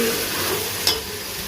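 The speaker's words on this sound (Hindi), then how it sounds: "इसको हम 2 मिनट प्याज और अदरक लहसुन के साथ टमाटर को भी कर लेंगे 2 मिनट के लिए फ्राई।" Tomatoes frying with onion, ginger and garlic in a pan for daal mash, giving a steady soft sizzle throughout with one brief utensil clink near the end.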